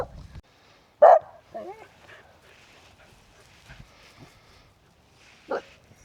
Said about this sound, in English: still got that dog over there baying